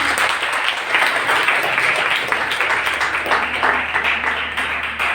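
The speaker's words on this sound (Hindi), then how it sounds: "लिए जोरदार तालियां।" Hearty applause fills a college auditorium for the winners of a World AIDS Day quiz competition, steady, loud clapping from a sizeable audience that continues unbroken throughout.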